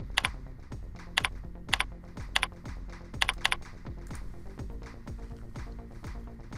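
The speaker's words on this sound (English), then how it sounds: "typing in the new name" Typing on a computer keyboard: a quick run of light, close key clicks in bursts with a few sharper taps, heard alone without talk.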